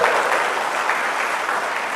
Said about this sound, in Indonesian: Tepuk tangan saja kasih bapak-bapak ini.